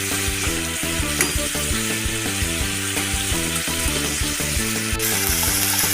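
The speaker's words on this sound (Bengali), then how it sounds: "মাংসটা ভাজা হয়ে গেছে আমি এরপর মাংসটা তুলে নেবো" Chicken frying in hot oil gives a loud, continuous sizzle with a steady crackle, along with repeated rhythmic scraping and knocking of a utensil against the pan.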